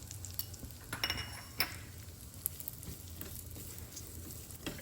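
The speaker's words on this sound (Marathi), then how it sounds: "खसखस आणि ड्रायफ्रूट छान परतून घेतले आपण" Poppy seeds with cashews and pistachios roasting in a pan for modak filling, a faint low sizzle with a few light clinks and scrapes of a spoon against the metal, quiet and close, no talking.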